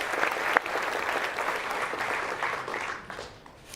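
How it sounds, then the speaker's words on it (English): A conference audience claps steadily, a dense wash of applause that holds level and then begins to fade toward the end. "And give a big applause for Rachel"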